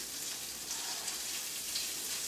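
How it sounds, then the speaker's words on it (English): Bacon sizzles and fries in a pan for a spaghetti squash carbonara, a steady, close hiss of crackling fat with no talking. "This bacon is cooking nicely."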